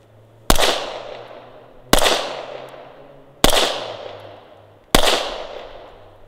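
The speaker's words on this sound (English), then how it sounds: "Empty the mag into the center of his chest." Four loud, sharp pistol shots from a Glock 19X, evenly spaced about a second and a half apart, each ending in a ringing decay over a steady low hum.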